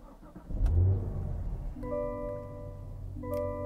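The 4-cylinder-free V8 of a 2022 Cadillac CT5-V Blackwing manual sedan fires up with a deep, loud starter crank and catch, then settles into a steady, close idle with a brief rise in revs near the end.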